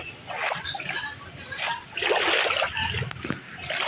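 Water splashes and sloshes in the Craft World video game, arriving as repeated bursts of splatter with a louder stretch in the middle, under intermittent game sounds.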